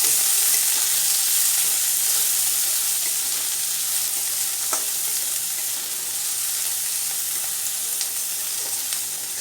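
Finely chopped onion frying with cumin in a pan gives a loud, continuous close sizzle with a light crackle, steady throughout and with no voices.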